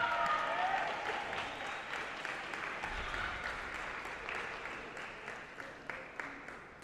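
An audience at a martial arts competition applauds a competitor's performance with steady clapping that starts loud and slowly thins out, a few scattered claps lingering at the end.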